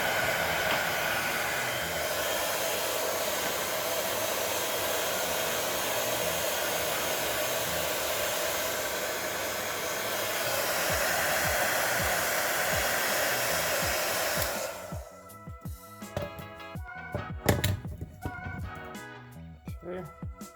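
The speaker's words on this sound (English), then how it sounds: "you can take a heat gun and just heat it up a little bit" A heat gun blows steadily to warm a Stifflers driveshaft loop on a custom aluminum driveshaft. Its even whooshing hum runs for about fourteen seconds, then cuts off, followed by a few scattered clicks and handling noises.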